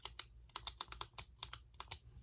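Rapid, repeated sharp clicks from a Tul metal gel pen, a dozen or so crisp snaps in quick uneven succession, close and clear with no talking.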